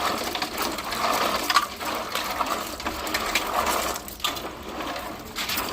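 Raw tamarinds are rubbed and rinsed by hand in water, giving soft, irregular sloshing and squelching with small splashes. The sound is fairly quiet and close, with no voices.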